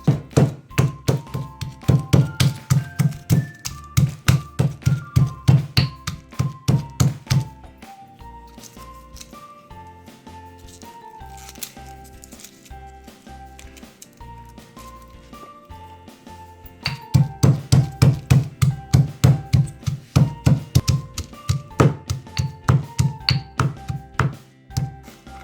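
Garlic cloves crushed for an Indian egg roast, heard as rapid rhythmic pounding thuds in long runs with a quieter stretch of softer taps in between, close and loud.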